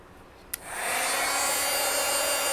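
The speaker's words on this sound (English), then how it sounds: "And then I'm going to emboss this" A heat embossing tool switches on with a click and settles into a steady, loud, close whoosh of hot air blowing continuously over an embossing project, with no talking.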